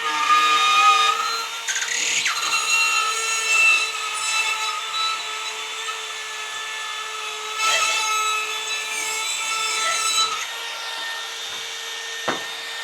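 A router bit cuts through a drywall sheet while the board is being installed, making a loud, steady, high-pitched whine with grinding and rasping. The tone wavers as the bit tracks along the cutout, with brief dips and a final snap.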